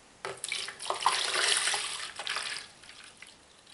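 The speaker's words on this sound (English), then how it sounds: "So I'm just gonna pour it in." Water is poured into a pitcher while preparing hot-process crockpot lye soap: a close, steady splashing rush that lasts about two seconds, then tapers off into quieter trickles.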